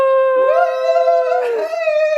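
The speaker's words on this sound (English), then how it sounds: "I wonder if you can hear the dog in the background." A dog whines and then breaks into a drawn-out, wavering howl that rises and falls over about two seconds, clear and fairly close with no talk over it.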